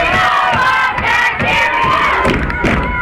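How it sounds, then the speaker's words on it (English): A rowdy home crowd at a girls soccer game in overtime, loud continuous shouting and cheering with rising yells, heard close and without commentary over it. "Bobcat crowd been rowdy"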